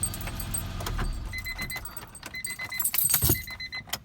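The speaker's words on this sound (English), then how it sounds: "my key ring just completely fell off of my key" A key ring comes loose and the keys from an old Honda Prelude Si jangle and clink in several bright, irregular bursts, close by and alone.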